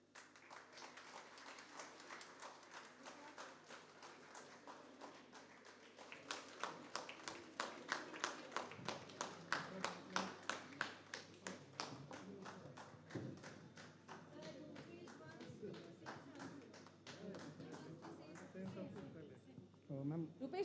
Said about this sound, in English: Now, grand applause for overall topper to Rupesh Prasad